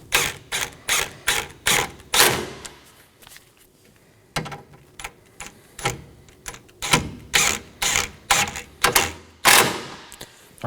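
Four 10mm bolts being snugged down on a Chevrolet Equinox 1.5L radiator produce a close series of quick ratchet clicks in short bursts, with a brief pause in the middle and then more clicking bursts.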